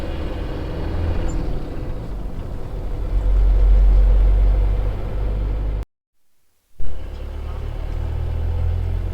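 Heavy road traffic on the Swat Expressway heard from inside a moving vehicle: a continuous low rumble of engines and tyres, swelling louder midway, briefly cut to silence, then resuming.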